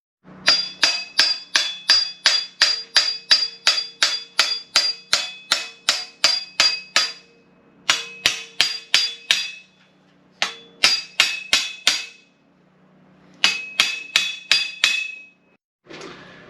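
Hammer blows drive a star nut setting tool down into the steerer of a bike fork on a Surly Karate Monkey custom build, a long series of loud, ringing metallic strikes in steady rhythm, pausing briefly between bursts, with no talking.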